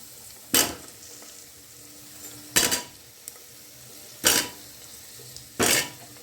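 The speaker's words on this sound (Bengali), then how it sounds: "দেখুন আলু দিয়ে দিলাম" Potatoes and tomatoes drop one by one into chicken curry in a pressure cooker, four loud, distinct clunks spaced a second or more apart over a quiet kitchen background, with no talking.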